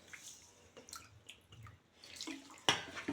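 Water is poured into a milk batter for Bengali patishapta pitha, giving soft, faint trickles and drips with a brighter splash near the end, in a quiet kitchen.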